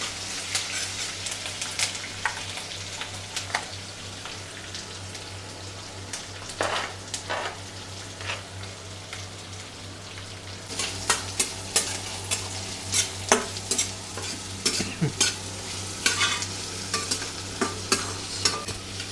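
Chopped onions for poha sizzle in a hot pan while a spoon stirs them, with repeated close scraping clicks over a steady frying hiss that grows busier partway through.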